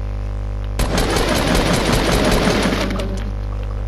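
Rapid semi-automatic gunfire in a video game, a dense burst of repeated sharp shots beginning abruptly and running for about two seconds at close range over a steady low background hum, then trailing off.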